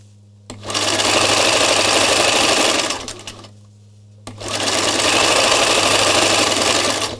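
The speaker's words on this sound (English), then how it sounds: "So I'm just repositioning each time and then stitching a petal" A sewing machine stitches petal and scallop shapes through a denim layer and a top fabric layer, running in two loud, steady bursts separated by a short pause.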